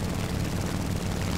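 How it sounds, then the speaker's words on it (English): Japanese A6M3 Zero fighter plane engine in the War Thunder game, a steady loud droning propeller roar with a dense low throb, continuous through the short stretch and without talk. "Flying my Japanese A6M3"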